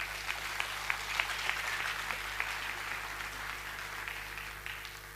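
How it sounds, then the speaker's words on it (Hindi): Crowd clapping at a company first-anniversary event in Patna, a steady wash of applause at moderate distance over a constant low electrical hum, with a few sharper individual claps standing out. "क्या इनके सम्मान में एक जोरदार तालियां नहीं होनी चाहिए?"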